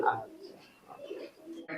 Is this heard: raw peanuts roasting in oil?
no